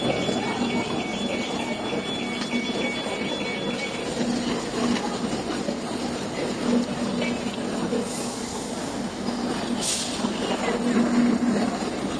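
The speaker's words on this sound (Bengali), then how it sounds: "আমরা চলে এসেছি গাইস দমদম লোকালে" A Dum Dum local commuter train runs at a busy station in Kolkata, with steady rumbling rail noise, faint wheel squeal and a few brief high screeches throughout, while crowd chatter and voices stay in the background.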